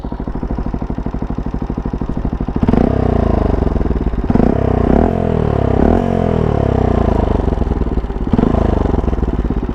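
A Pulsar NS125 motorcycle fitted with an Akrapovic silencer exhaust runs close by with a loud, steady throbbing idle, broken by several sharp throttle blips into deeper revs.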